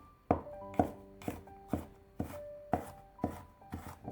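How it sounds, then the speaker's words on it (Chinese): Knife chopping peeled garlic cloves into mince on a board, about nine sharp distinct thunks in an uneven rhythm, close and clear with no talk. "几瓣去皮的大蒜先切成薄片， 再改刀切成蒜末"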